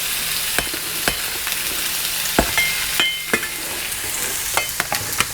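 Half an onion frying in oil in a pan for Japanese croquettes, a steady soft sizzle broken by sharp clinks and scrapes of stirring, close and alone without talk.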